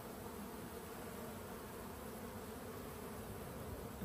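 A dense swarm of bees flying around beehives makes a continuous, even buzzing drone that fills the whole scene, loud and close, with no pauses and no voices.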